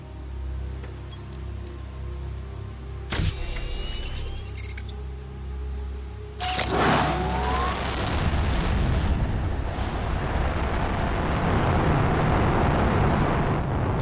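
Rocket lifting off in Planet Crafter on intense difficulty: a steady machine hum, a sharp whooshing burst, then a second ignition swelling into a loud, sustained roaring rumble that carries on to the end.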